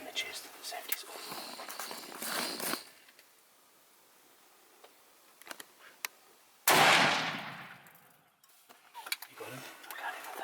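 During a baboon hunt, a single loud gunshot cracks out and echoes as it decays over a couple of seconds. Hushed talk and small rustles surround it in the open bush.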